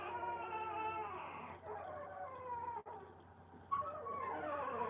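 A litter of puppies whines and howls in long, drawn-out wavering cries, overlapping and fairly close, with a brief dip partway through before the howling swells again.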